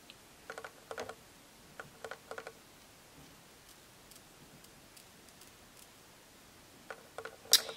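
Quiet, crisp snips of scissors cutting short curly wig hair come in small clusters with pauses between, close and faint, ending with a sharper snip.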